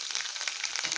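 Garlic frying in hot oil, a brief bright crackling sizzle that holds fairly steady, close and moderately quiet.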